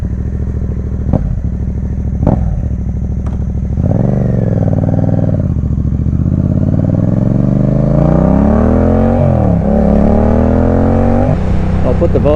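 Motorcycle riding recorded with a GoPro and helmet audio setup, engine note loud and steady throughout with rising and falling revs as it accelerates, plus wind rumble and a few sharp clicks early on.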